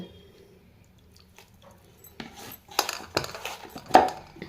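Rice flour dough being mixed by hand in a bowl: quiet at first, then soft squishing with clinks and scrapes against the bowl that grow louder toward the end, with no talking.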